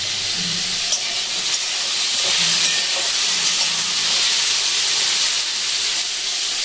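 Potatoes frying in hot oil in a pan while making shak posto, a continuous loud sizzling hiss that stays steady and close with no talking.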